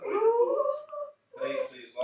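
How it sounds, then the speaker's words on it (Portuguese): A pet dog whines and cries indoors in two drawn-out, wavering bursts separated by a short silence, fairly close and clear. "o meu cachorro tá chorando, tadinho"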